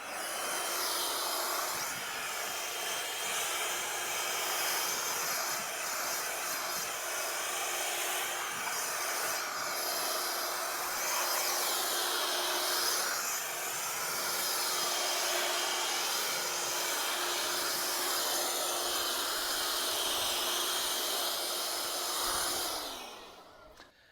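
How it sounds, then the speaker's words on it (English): A blower roars steadily at close range as it clears sawdust off cabin logs during site preparation. The loud, continuous rushing whine holds for over twenty seconds, then cuts off abruptly at the end. "This is where a blower comes in handy."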